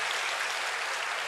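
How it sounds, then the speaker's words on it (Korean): Applause from a congregation at a Friday night church worship service, a steady, dense wash of clapping that fills the whole short moment without a break. "이렇게 다시 한번 박수하겠습니다"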